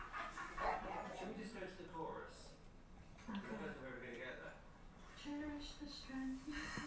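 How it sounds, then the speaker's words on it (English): A dog in a home barks and whimpers faintly in the background while people talk over it throughout. "Can you let the dog out?"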